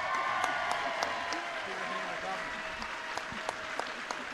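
An audience at a George W. Bush event applauds and cheers steadily at moderate distance, with sharp individual claps standing out while a voice talks over the crowd.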